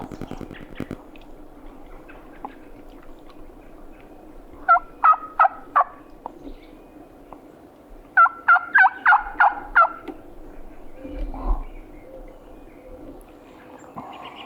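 Two bursts of wild turkey gobbling from a roosted gobbler with hens during a hunt, each a rapid rattling series of calls, sounding fairly distant against a quiet outdoor background.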